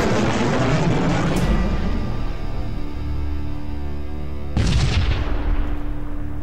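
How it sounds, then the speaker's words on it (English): Heavy booming weapon fire from missiles and lasers in the space combat game Sunrider, with a long rumbling blast followed by a second sharp explosion, loud and without talk. "Fire a missile and give them a burst of the lasers"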